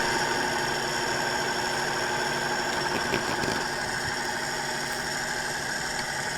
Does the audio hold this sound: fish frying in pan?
no